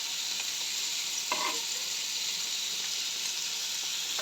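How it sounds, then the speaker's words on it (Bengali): Fish curry is stirred in a hot pan with its liquid cooking down, making a continuous close hiss and sizzle with faint scraping stirs and no talk. "এইবারে আমি ভালো করে নাড়াচাড়া করে নিচ্ছি সুন্দর করে"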